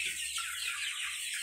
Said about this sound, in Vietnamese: Gà này mình nuôi mình để ăn thôi.